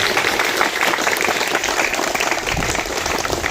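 Loud, dense applause from schoolgirls at a girls' high school celebrating National Space Day and honoring India's scientists; continuous clapping at an even, sustained level throughout.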